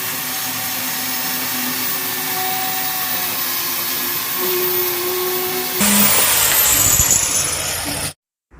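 A marble and wood cutter machine runs steadily at a loud, constant whine, then shifts to a rougher, louder tone near the end before stopping abruptly.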